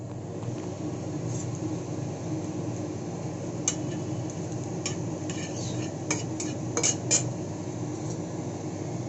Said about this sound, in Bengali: এবার একটু দিয়ে দিলাম গোটা জিরে ফোড়ন